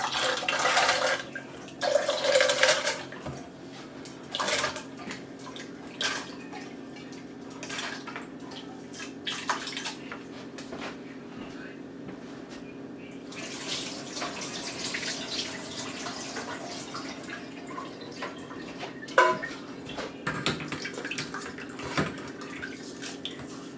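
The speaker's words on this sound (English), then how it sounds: "Add a little bit of water." Water poured from a tap into a blender with soaked soya beans for soya milk, a running splash with faint clinks and drips in a quiet kitchen.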